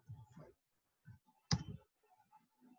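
A computer mouse clicks while drawing in SketchUp: one crisp, sharp click stands out among a few soft, dull taps and light desk noises, close and quiet.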